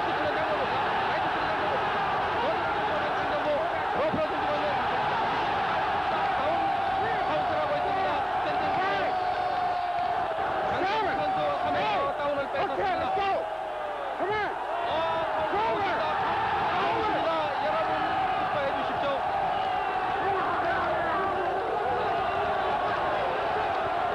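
Dense, steady roar of a large boxing arena crowd cheering and shouting at a WBC light flyweight title fight between Jung Koo Chang and Hilario Zapata, loud and continuous throughout with swelling bursts of yelling.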